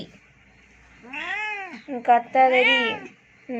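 A pregnant cat in labour gives loud, drawn-out pained meows in close succession, with a short cry starting again at the end.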